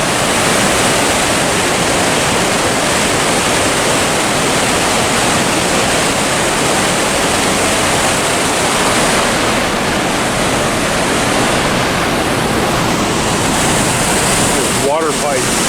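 Water rushing loudly and steadily from a large water pipe near a fishing area in Oregon or Washington, a dense continuous roar heard close up for the whole stretch without talk.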